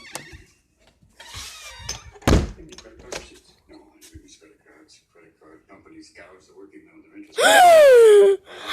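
A house door is opened, giving a dull thunk early on and then a loud, drawn-out creaking squeal near the end, with faint voices and rustling in between.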